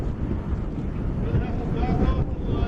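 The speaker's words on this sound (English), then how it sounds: "it's very windy out there" Gusty wind buffets the microphone in a low, rumbling roar, loud and continuous outdoors at a canoe and kayak sprint regatta.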